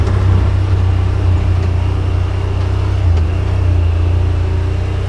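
Yamaha Wolverine RMAX2 1000 Limited Edition side-by-side engine droning low and steady while driving, a loud, constant rumble with no speech.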